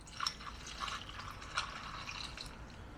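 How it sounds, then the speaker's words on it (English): Mojito mixture poured into a glass over crushed ice, giving a faint, soft trickle with a few light drips and splashes, close by and without talk. "Put your crushed ice in, and then you want to go ahead and pour in your mixture."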